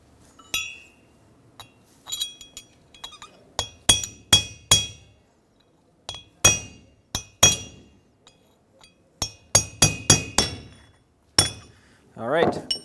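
A hammer strikes a metal punch to drive a wheel bearing into a 2007-2014 Chevrolet Silverado 2500 HD rear hub, giving sharp ringing metallic clinks in irregular bursts of two to four, with short quiet gaps and faint talk between.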